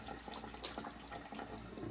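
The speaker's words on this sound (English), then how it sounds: "Put a little water in my hand." Water running from a tap into a cupped hand during face washing, a soft, steady splashing stream heard close and low, with no talk.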